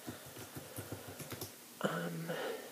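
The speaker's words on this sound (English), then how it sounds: "I'm just typing up some stuff for you so that you won't forget" Soft, quick keystrokes tap on a computer keyboard at close range for a second or so, then give way to a low hum with no talking.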